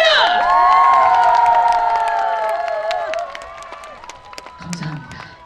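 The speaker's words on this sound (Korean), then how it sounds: "여러분 박수와 함성 보내주세요" An outdoor concert crowd at the Jangseong Hwangnyonggang flower festival cheers and claps over sustained bright musical tones, the shouts and applause loud at first and then thinning out.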